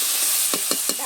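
Crab curry fries in a pan, with a loud continuous sizzle close up as a little water hits the hot oil, broken by a few soft stirring knocks.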